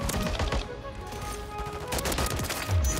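Holger 556 rifle in MW3 firing four-round bursts, a rapid cluster of shots within steady in-game combat noise, loud and close.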